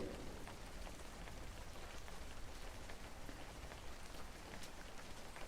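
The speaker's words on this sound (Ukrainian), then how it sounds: "Сьогодні діти в нас слабкий дощик." Light rain falls steadily in winter weather, a soft continuous patter of drops on the ground at an even level throughout, with no voices.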